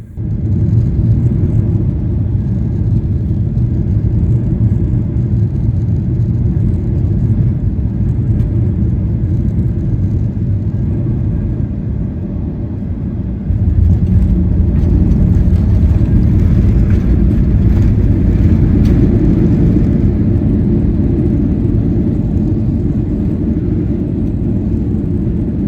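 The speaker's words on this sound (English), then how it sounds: "We landed onto runway 24 at Edinburgh at 3:21 p.m" Cabin roar of a Ryanair Boeing 737-800 landing on runway 24 at Edinburgh during Storm Isha, a loud, steady low rumble that steps up abruptly partway through as engine noise rises, with no talking.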